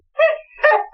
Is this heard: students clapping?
no